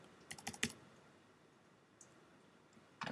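Keys clatter on a computer keyboard in a quick burst of several close clicks, then fall quiet, followed by a faint lone tap and a short final flurry of keystrokes.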